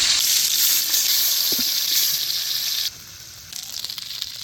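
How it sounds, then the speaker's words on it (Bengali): Freshly caught fish sizzles in hot oil in a pan, a bright continuous frying hiss that cuts off sharply partway through and then resumes more faintly with a few scraping stirs. "মাছ ভাজা হয়ে গেছে"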